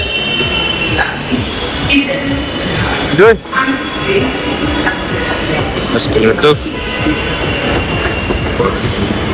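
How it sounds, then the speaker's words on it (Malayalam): A Mumbai metro train rumbles loudly into a station, with rattling carriages, a brief metallic screech partway through, and faint voices in the background. "ഒരു മെട്രോ വന്നിട്ടുണ്ട്,"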